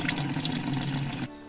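Water pouring from a tap into a container in the farming game Everdream Valley, a steady close rush that cuts off abruptly near the end.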